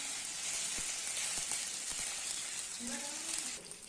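Onion is dropped into hot oil while cooking paddu (appe), giving a steady, close sizzle and hiss with a few light clinks of utensils and a brief stir.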